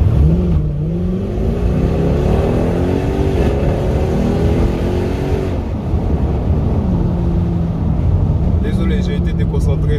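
Mercedes E63 AMG V8 engine revving, a loud, close burbling engine note rising and falling in pitch through several swells, with a brief lull midway.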